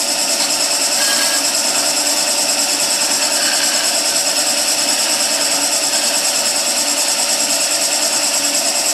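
A skew chisel rolls a bead on a spinning wood lathe, a steady loud whirring hum with a continuous scraping hiss, unbroken and close with no talk.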